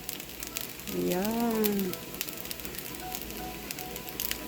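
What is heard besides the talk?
garlic frying and sizzling in a pan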